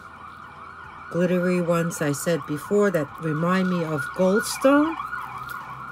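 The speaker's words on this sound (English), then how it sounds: "Excuse the noise outside my window. It's the siren going by." An emergency vehicle siren wails outside a window as it passes, rising and falling in repeated sweeps, loud and clear while someone talks over it indoors.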